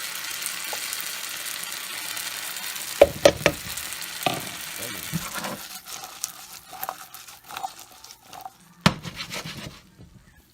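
Chopped onions hit a hot pan for a Spanish tortilla and fry with a steady, close sizzle, broken by a few sharp clacks and scrapes of stirring; nobody speaks.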